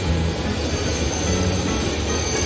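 A train on the Mumbai local railway at Sandhurst Road station roars past in a steady, loud, continuous rumble with a faint high wheel squeal on top.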